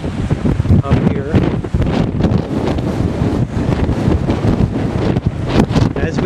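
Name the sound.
strong wind on the stormy Pacific coast, wind noise on microphone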